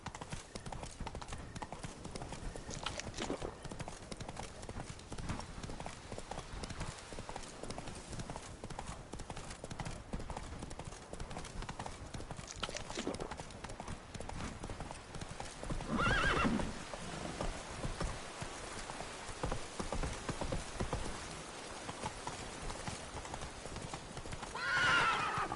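In The Witcher 3, a horse gallops with continuous rhythmic hoofbeats and gives loud whinnies near the middle and the end, under game ambience, with a brief spoken command.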